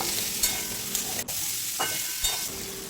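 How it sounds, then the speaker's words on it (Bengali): Raw papaya and potato pieces fry in a pan, giving a continuous soft sizzle with a few brief stirring scrapes and clinks over three seconds, no talking. "এবার পেঁপে আলুগুলোকে প্রায় দু তিন মিনিট সময় নিয়ে একটু ভেজে নেব"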